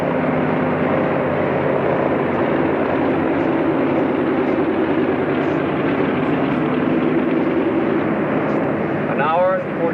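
A 1950 propeller transport aircraft rolls along the runway after landing, its engines droning loud and steady from close inside, a broad continuous roar with a brief whine near the end.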